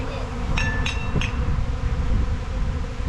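Thousands of bees swarming and settling onto a tree on a homestead, a dense steady buzzing hum close by, with a few brief higher tones near the start.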